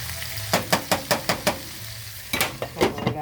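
Sausages fry in a pan as they are turned to coat evenly. A steady sizzle runs underneath a series of rhythmic scraping, stirring strokes, about a dozen close and fairly loud pulses with a short lull midway.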